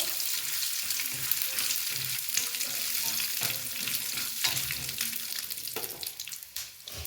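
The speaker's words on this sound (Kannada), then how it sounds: "ಇವಾಗ ಇದೇ ಎಣ್ಣೆಗೆ ಕಡಲೆ ಬೀಜ ಬಾಳೆ ಬೀಜ ಫ್ರೈ ಮಾಡಿಕೊಂಡು" Peanuts fry in hot oil in a home kitchen, giving a steady crackling sizzle with soft stirring scrapes throughout.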